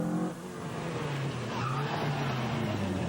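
A Ford Escort rally car drives through a stage at the 1997 Jersey Rally, its engine note rising and shifting as tyres scrabble, loud and close across the whole stretch.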